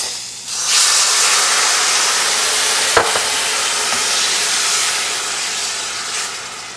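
Liquid hits a hot pan of risotto rice with a loud, steady steaming hiss that surges early and stays broad and sustained, broken by a sharp clink near the middle.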